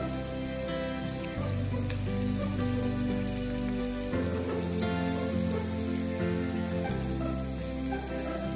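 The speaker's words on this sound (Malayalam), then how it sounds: "ഇനി ഫ്രൈ ചെയ്ത അതേ എണ്ണയിൽ നമുക്ക് സവാള ചേർത്ത് കൊടുക്കാം" Onions frying in oil reused from earlier frying for a chilli chicken, giving a steady, loud sizzle with dense crackling throughout and no talk.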